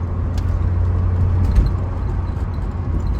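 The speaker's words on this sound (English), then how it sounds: "You can hear the turbo spool up." A 1987 Saab 900 Turbo engine accelerates, with a steady low drone and road rumble from inside the car as the turbo builds boost, loud and continuous without speech.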